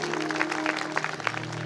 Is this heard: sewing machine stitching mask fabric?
no